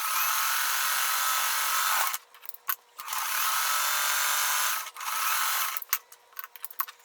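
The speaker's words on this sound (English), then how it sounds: "we are sewing on each side of that line" A sewing machine stitches the seam of a heart quilt block, sewing a quarter inch on each side of a marked line. It makes a close, steady whirring in three bursts separated by brief stops with light clicks of fabric handling.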